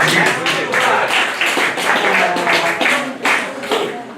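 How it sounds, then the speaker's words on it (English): Jazz concert audience at the Louis Armstrong Center in Queens clapping for the band, a loud bursty round of applause with crowd chatter mixed in throughout. "A round of applause"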